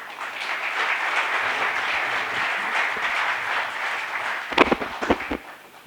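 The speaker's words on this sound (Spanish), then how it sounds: "le damos un fuerte aplauso a nuestros expositores." An audience at a book presentation applauds the speakers with steady, dense clapping that holds evenly for several seconds, then thins out as a few louder, closer claps and some handling noise end it.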